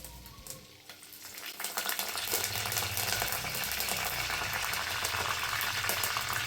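Curry leaves hit hot oil in a village-style tomato rasam pot, bursting into a loud, steady crackling sizzle that swells after about two seconds and holds close and dense with no talking.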